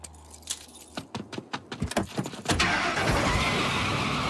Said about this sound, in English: And Javier, get their keys and take their SUV.